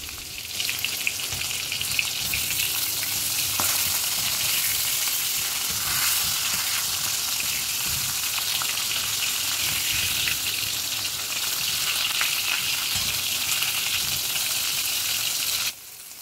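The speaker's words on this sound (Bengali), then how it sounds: "মাছের মাথাটা একটু লাল লাল করে ভেজে নেব।" A hilsa fish head fries in hot oil in a pan, giving a loud, dense, continuous sizzle that stays close and steady for the whole stretch with occasional crackles and no talking.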